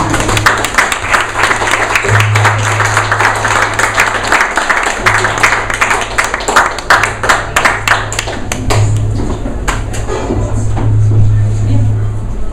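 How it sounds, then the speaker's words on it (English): Audience applause at a storytelling event: loud, close, steady clapping from a small crowd that continues the whole time, with a low tonal hum running beneath it. "Another round of applause."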